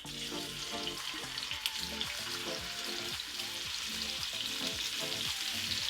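Salmon sears skin-side down in about two tablespoons of hot olive oil, giving a steady close sizzle with fine crackling and spitting pops that carries on without a pause.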